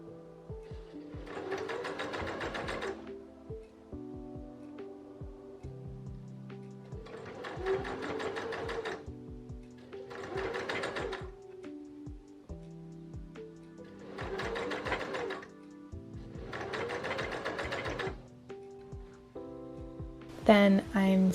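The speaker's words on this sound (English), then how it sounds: "Here I'm sewing the hem of the sleeves, just folding it over once and stitching very close to the edge of the sleeve" A sewing machine stitches a narrow single-fold hem on a dress sleeve in six bursts of rapid whirring, each a couple of seconds long and separated by short pauses, with a faint hum between runs and a sharp clatter at the end.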